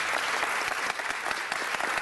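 Steady applause from a seated audience at a city council meeting, dense and even throughout with no pauses.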